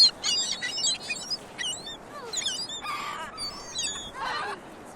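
Seagulls calling on Cherry Grove Beach, a string of close, loud squawks and honking cries in quick bursts over a soft steady background of surf.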